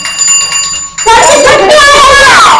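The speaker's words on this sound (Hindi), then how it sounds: "घंटी बाज गया तब बच गए ना" A school bell rings with a steady metallic tone for about a second, then loud overlapping voices and shouting take over.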